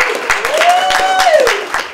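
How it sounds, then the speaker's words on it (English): Audience applause at a county sanitation division employee hip-hop competition, steady clapping and crowd noise holding through the whole stretch, with a sustained tonal voice or instrument line running over it. "I'll give Veronica another round of applause"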